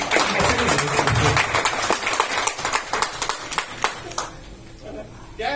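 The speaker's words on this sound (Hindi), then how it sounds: "तालियां।" An audience at an insurance sales seminar claps, a burst of dense applause that thins into scattered individual claps and fades out, with speech mixed in.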